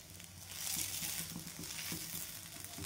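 Dosa roasting in a little oil on a hot pan gives a steady, close frying sizzle with soft crackle throughout, alone without talk.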